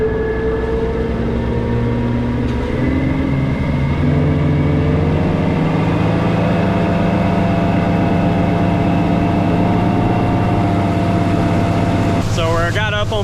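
A new 2023 Yamaha F250 4.2L outboard engine drones steadily as the boat runs on plane at around 3,200 RPM, with water and wind noise throughout and a voice speaking over it.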